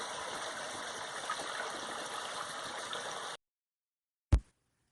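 Rushing water at the Pockwock River waterfalls in Nova Scotia, a steady broadband roar heard close and fairly loud for about three seconds, then cut off abruptly, followed by a single brief thump.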